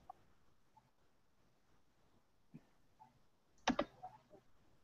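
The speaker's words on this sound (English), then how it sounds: "And I click data files." A computer mouse clicking while browsing to a data files page, a faint sharp double click near the end in a quiet room, with a few soft taps before it.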